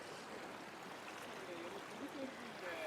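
The flooded Kaveri river rushes along its bank in a faint, continuous broadband wash of flowing water, heard from a short distance, with people talking quietly nearby.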